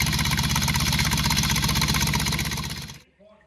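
A .30-over 289 V8 engine with ignition problems and dead cylinders runs rough, a loud, uneven pulsing rumble that drops away after about three seconds, leaving faint sounds.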